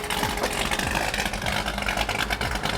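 A 1986 Chevrolet C10 pickup with a 502 big block GM crate engine idles loudly and steadily, a deep rumbling lope filling the whole stretch with no voices.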